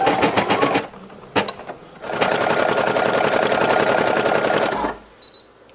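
A close embroidery machine stitches Among Us crewmate patches in a rapid mechanical needle clatter, with a short burst, a brief pause, then a longer steady run before it stops with a few small clicks.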